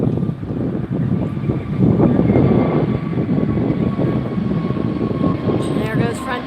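A Frontier Airlines airliner passes at LAX, a broad steady engine roar that holds loud and close throughout.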